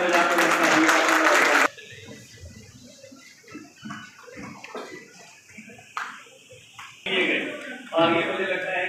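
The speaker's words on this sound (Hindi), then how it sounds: "हम उम्मीद करते हैं कि आप शिक्षकों के लिए जोरदार तालियां बजाकर" An audience at an education conclave for teachers bursts into loud applause at the start, then goes quiet beneath a speaker's voice before shorter rounds of clapping return near the end.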